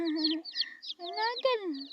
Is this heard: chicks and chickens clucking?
yes